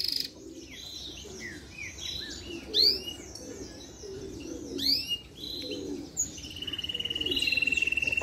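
Saffron finch (canário do reino) held in the hand sings in short, bright chirps and rising whistled notes, close and fairly clear, over a low murmuring background with a steady high buzzing trill near the end.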